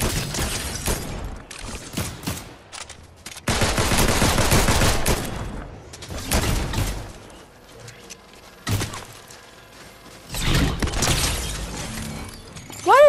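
Gunfire in a Fortnite match arrives in loud, close bursts of rapid shots with sharp cracks and mechanical clatter, separated by short quieter gaps.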